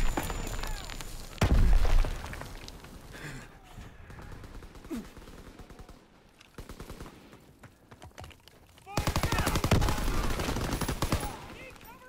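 Bursts of gunfire crackle during a Hardpoint match in Call of Duty WWII on the Ardennes Forest map, with loud dense volleys near the start and again toward the end, thinner shots between, and game voices heard at times.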